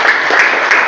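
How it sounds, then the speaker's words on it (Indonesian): A short burst of applause from students in a classroom, quick clapping that lasts under a second. "Tepuk tangan untuk Rini."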